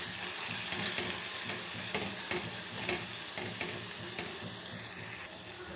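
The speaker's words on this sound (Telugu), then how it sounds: "ఇందులో కొద్దిగా పసుపు, కారం వీటిని వేసేసి ఒకసారి కలిపేసుకోవాలి." Turmeric and chili powder are stirred into a frying tempering for a moong dal dish, giving a steady sizzle broken by regular spoon-stirring scrapes, close and moderately loud.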